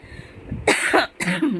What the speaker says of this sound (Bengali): আমার খুব কাশি হয়ে গেছে